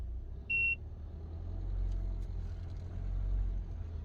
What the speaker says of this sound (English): Now start the car. Now put it in D, or first gear,